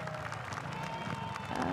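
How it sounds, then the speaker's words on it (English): Crowd clapping at a Honda trial bike show during a Honda Racing Thanks Day event, a steady spread of applause from a large audience, heard alongside a few voices over the full length. "Oh, there's a big hand clapping from the crowd."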